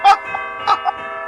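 Bells ring amid Fallout 76 gameplay during a Christmas Carol stage play: sustained tonal ringing runs throughout, with two brighter clanging strikes near the start and middle, loud and close.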